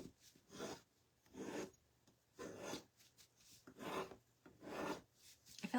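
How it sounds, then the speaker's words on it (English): A craft piece being scraped to strip off its paint colour, heard as about six slow, separate rasping strokes spaced roughly a second apart, close and fairly quiet with near silence between strokes. "All I'm doing is just scraping away some of this"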